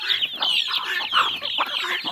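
Several chickens cluck busily together in a backyard coop with chicks among the hens, a steady overlapping chatter of short calls close by, with no talking.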